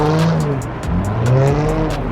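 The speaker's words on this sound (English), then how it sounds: "These boys here doing donuts and everything, man." A car doing donuts at a Houston car meet, tires squealing in repeated rising and falling screeches over a loud, close engine roar.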